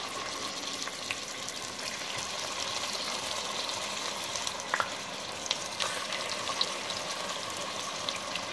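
Chicken pieces cook in melted butter in a pan, giving a soft, steady sizzle with occasional faint crackles and pops, and no talk over it.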